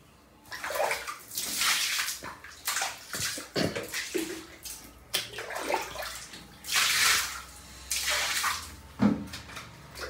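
Water splashes and sloshes across bathroom surfaces during a deep clean, rinsing off a cleaning chemical, in repeated close, loud gushes and bursts with short pauses between them and no talk.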